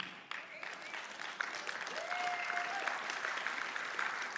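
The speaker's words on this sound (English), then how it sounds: "I hear the hands of women clapping" Applause from a church congregation during a sermon by a reverend, moderate and steady for several seconds, somewhat distant, with a faint voice over it.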